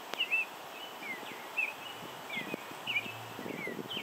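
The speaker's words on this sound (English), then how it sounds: "There's a robin singing in the background," An oriole whistles short fluty phrases in repeated bursts while a robin sings in the background, with faint rustling and soft thumps nearby.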